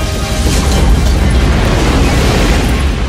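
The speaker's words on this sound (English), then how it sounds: "The explosion will never think to look for you there." A film explosion sound effect roars in a dense, loud, sustained rumbling blast that fills the short span with low booming energy.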